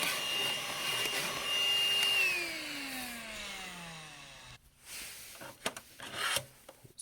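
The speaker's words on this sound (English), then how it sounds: "I'm gonna still vacuum a little bit." Small vacuum cleaner nozzle working inside a desktop PC case, a whining suction tone that slides down in pitch, then gives way to scattered rubbing and knocking handling noises.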